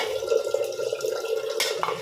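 Water poured over tamarind in a kitchen to soak it, a steady close trickling and splashing stream with a faint resonant tone from the container and a brief clatter near the end.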